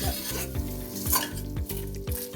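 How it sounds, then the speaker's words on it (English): Sawaiyan noodles stirred in butter in a pan over medium heat crackle with a continuous sizzle, while regular utensil scrapes and taps repeat about every half second against the pan. "And we're just gonna stir it. We're just gonna stir it for about a minute or two."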